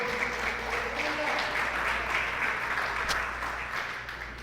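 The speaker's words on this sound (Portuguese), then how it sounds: "Você pode aplaudir Jesus," A church congregation applauding during a sermon, a loud, sustained wash of clapping that fills the whole stretch and tapers slightly at the end, with voices mixed in.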